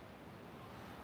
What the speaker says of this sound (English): soak up the sound of the waves, the ocean